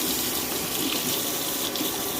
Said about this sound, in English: We wash this spoon off and taste it again.